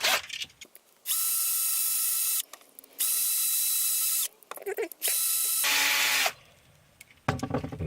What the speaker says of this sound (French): on va commencer déjà par ôter tous les rivets. Et pour ça, la petite perceuse magique.